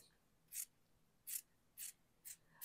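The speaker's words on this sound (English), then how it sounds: "I'm going to go around with my scissors and trim off" Scissors trimming fabric while making a large yo-yo button: four short, crisp snips spaced about half a second apart, faint and alone against a quiet background.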